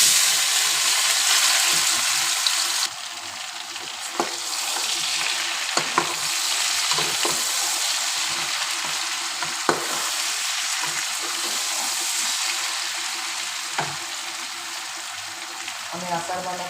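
Boiled mango pieces and dried chillies fry in a pan for pickle, giving a loud, steady sizzle with scraping stirs throughout.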